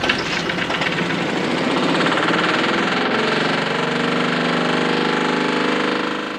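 Vehicle engine running on a hydride fuel made with ammonia, idling with a steady, loud, dense rattling drone that holds evenly throughout and fades slightly at the end.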